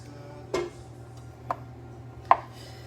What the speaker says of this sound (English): what I usually do is just cut it in a few pieces just so it melts quicker